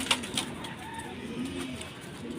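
A racing pigeon just returned home from a club race coos softly in short repeated phrases, close by, with faint outdoor background noise.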